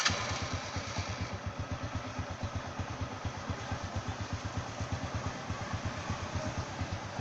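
A motorcycle engine fires up and settles into an even, pulsing idle with a steady low thump and slight clatter, close and continuous for several seconds.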